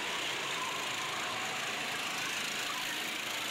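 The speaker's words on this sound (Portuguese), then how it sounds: "drigo passando aqui na frente da cabine SVG, acelerando e rasgando aí na reta da vitória, botando potência no motor" A racing go-kart engine roars on the track during a kart championship round, giving a loud, steady, buzzing drone with no break and no other sounds over it.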